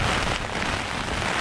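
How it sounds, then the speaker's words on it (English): Rain patters steadily on a tent fly during a windy storm on the Mackenzie River, a dense, even hiss of drops with no voices. "It's raining."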